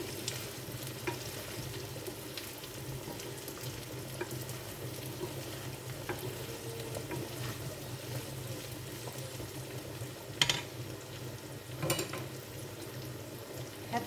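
Brussels sprouts fry in a pan while being stirred, a soft continuous sizzle with occasional scraping clinks of the utensil, fairly quiet and close, with no voices.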